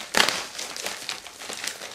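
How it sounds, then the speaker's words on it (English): A book subscription box package is ripped open by hand, with loud crinkling and tearing of packaging in several bursts, close up. "so that's why I'm like trying to rip it open"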